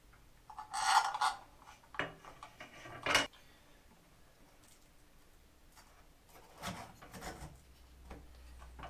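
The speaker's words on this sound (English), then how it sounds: "Now we're going to put the faceplate back with the screws." Shower valve faceplate on a Moen or Kohler valve being fitted back with screws, giving scattered clicks, scrapes and rubbing handling noises, quiet and intermittent.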